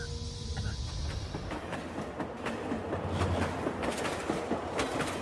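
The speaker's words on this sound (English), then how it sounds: "At Edfu, the train begins to run alongside the Nile." A train runs alongside the Nile near Edfu, Egypt, with a steady rumble of rolling wheels and periodic clicks from the rails filling the whole stretch.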